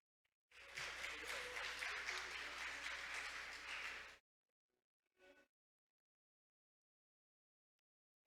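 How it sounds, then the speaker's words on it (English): At a maritime industry conference, an audience gives an incoming speaker a full round of applause lasting nearly four seconds, thick and even, then stopping sharply, followed by a brief muffled burst and quiet. "Let's welcome him on the stage with a big round of applause."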